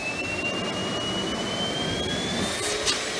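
Dog hair dryer blowing a loud, continuous rushing stream of air with a faint whine rising in pitch as the wind control knob raises the speed.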